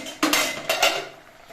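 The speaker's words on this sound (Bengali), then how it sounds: "খুন্তি দিয়ে দেখে নিচ্ছি যে জলপাইগুলো সেদ্ধ হয়েছে কিনা" A metal spatula clinks and scrapes against a wok of boiled olives, two bright sharp knocks close up followed by a fading ring, with no one talking.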